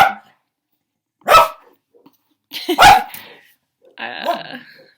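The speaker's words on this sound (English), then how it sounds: "so hopefully he'll stop barking" A dog barks three times in separate bursts, close and loud, with silent gaps between each bark.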